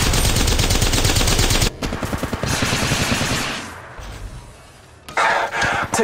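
Rapid automatic gunfire in the Apex Legends video game, loud bursts of rattling shots in quick succession, then sparser distant firing that fades before another close burst returns.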